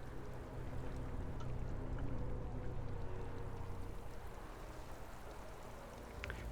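Flowing stream of water in a video game, a constant soft rushing wash that stays even and unbroken throughout, fairly quiet and with no voices over it.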